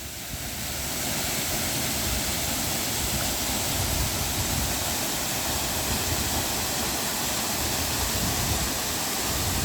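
Busay Falls pours in a constant, dense roar of falling water, close and loud with no break throughout.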